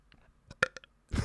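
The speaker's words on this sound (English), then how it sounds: "Is that not polite for me as a woman to burp into the mic?" A woman burps close into a podcast microphone: a short cluster of throaty bursts building to one loud belch, then a broadband rustle at the end.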